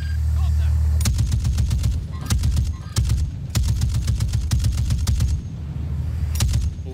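Sniper and other gunfire in Warzone 2.0 cracks out in loud, sharp bursts of rapid repeated shots with short pauses between volleys, over a low rumbling background.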